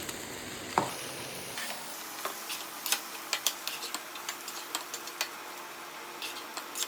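Moringa leaf fry being stirred in a pan with ground spice powder, a soft sizzle running under irregular light clinks and scrapes of the spoon against the pan, close and steady with no talking.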